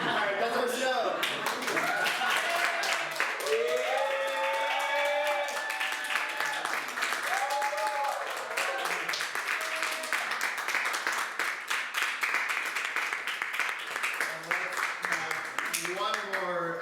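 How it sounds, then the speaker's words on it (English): An audience claps after a student showcase performance, sustained hand-clapping building and holding for many seconds while voices speak and call out over it. "One more all together, please. A great big round of applause."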